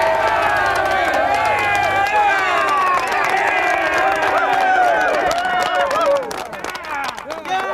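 A crowd cheers and whoops loudly over a revving engine that has run 500 hours without oil, with excited shouting and clapping throughout before the noise thins out near the end.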